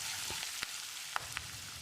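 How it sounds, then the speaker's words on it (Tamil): Curry leaves and asafoetida fry in a hot pan for coconut rice, giving a steady broadband sizzle with a few soft clicks from stirring; no one speaks. "கொஞ்சமாக கறிவேப்பிலை, 1/4 டீஸ்பூன் பெருங்காயத்தூள், ஒரு 10-15 செகண்ட் இதை பிரட்டி விட்டுடலாம்."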